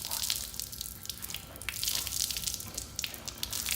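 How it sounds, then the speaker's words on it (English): Water dripping and splashing as a soaked chamois is wrung out by hand while drying a washed car, with irregular close trickles and spatters running continuously. "chamois only work when they're wet, so you got to wring it out like this"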